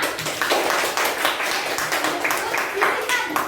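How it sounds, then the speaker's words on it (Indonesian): Fifth-grade pupils in a classroom clap for all the groups, a close, brisk patter of many hands with uneven rhythm lasting a few seconds, voices faintly mixed in. "beri aplaus untuk semua kelompok di kelas 5"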